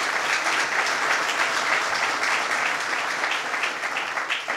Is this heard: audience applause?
yes